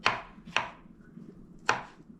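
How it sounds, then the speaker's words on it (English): A knife chops mushrooms for a vegan pizza, three crisp, sharp cuts against a board with uneven gaps between them, close and clear with no talking. "So I'm just chopping up my mushrooms"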